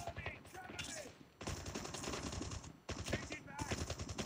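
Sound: gunfire in video game Call of Duty Mobile

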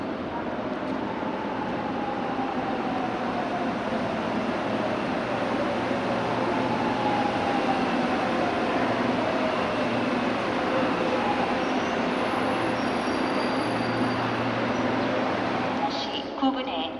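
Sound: train arriving at railway station platform

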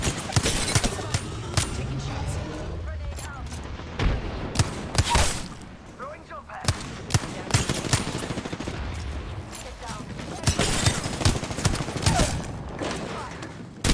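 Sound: gunfire in the video game Apex Legends

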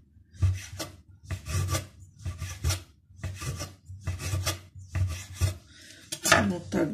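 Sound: knife slicing rolled homemade noodle dough into wide noodles

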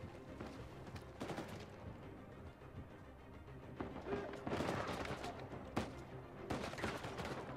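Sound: gunfire from a gun in the video game Uncharted 4

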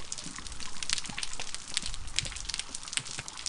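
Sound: underwater sound of a coral reef

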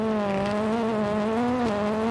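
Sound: Ford Fiesta WRC rally car driving in video game WRC 9

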